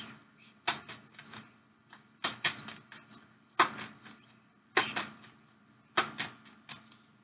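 Tarot advice cards being shuffled in quick riffling bursts, each lasting about a second, repeating roughly every second or so at close range and fairly quiet.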